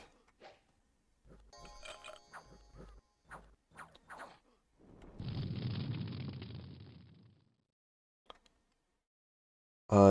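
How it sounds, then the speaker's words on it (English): A roaring, whooshing blast of fire from the Pillar of Fire spell in the Dominions 6 video game, swelling for about two seconds after a run of small clicks and pops, then fading out. "This guy's doing some Pillar of Fire"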